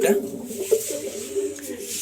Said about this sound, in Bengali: এটা একটা মাদি পায়রা আছে